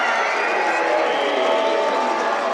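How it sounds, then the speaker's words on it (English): Thousands of home fans cheering at an Indy Ignite volleyball match in their home arena, a steady, roaring indoor crowd with no break, under a commentator's voice. "There's still thousands of fans cheering them on."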